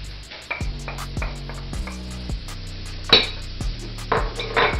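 Peas, carrots and green onions for shrimp fried rice stirred in a pan, with a steady run of rhythmic metal utensil scrapes and clanks against the cookware over a constant background sizzle, one sharper clatter midway.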